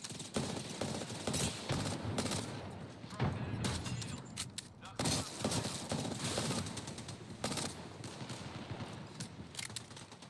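Dense automatic gunfire fills a shooter match in Apex Legends, loud bursts and sharp shots packed closely together and running almost without pause, with players talking over the top.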